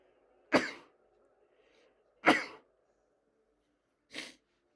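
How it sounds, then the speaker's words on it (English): Three sharp coughs, evenly spaced a couple of seconds apart, the last one a bit softer, with quiet pauses between. "Just coughing up a storm, or sneezing up a storm here."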